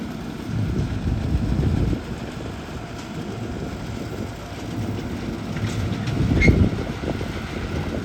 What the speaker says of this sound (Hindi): रीपर को मैं रुकवाऊंगा अभी